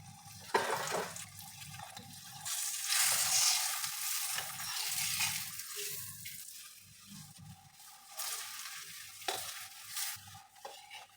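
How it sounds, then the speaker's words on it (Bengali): Sweet potato parathas fry in hot oil in a kadai with a continuous crackling sizzle that swells and eases, plus occasional splashy, bubbling surges and soft clatter nearby, close and fairly quiet overall. "এবার এই কড়াতেই আমি পরোটাগুলো ভেজে নেবো"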